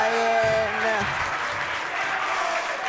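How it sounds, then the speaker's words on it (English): Home fans at a high school varsity basketball game cheer and clap in a broad wash of applause filling the gym, with a voice briefly audible near the start. "Tuskers are cheering as it looks like they're going to be throwing it back in."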